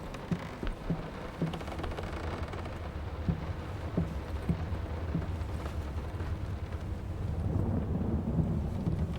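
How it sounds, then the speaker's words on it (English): Rolling thunder and storm rumble from the horror game Layers of Fear, a continuous low roar with wind-like noise, swelling slightly toward the end, with no talk over it. "we're going to be sat here listening to the thunder and lightning for a while"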